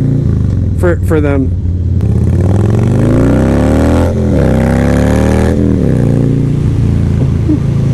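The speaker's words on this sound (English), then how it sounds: "But with these Harleys, they're pretty loud" Loud Harley-Davidson motorcycles riding on a road, their engines droning steadily and rising in pitch as they accelerate, with a brief voice near the start.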